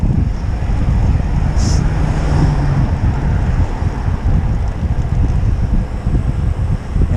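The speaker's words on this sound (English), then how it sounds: "Here's the river." A river flows near Lake Louise in Alberta, giving a steady, broad rushing wash of water mixed with wind buffeting the microphone, continuous and fairly loud throughout.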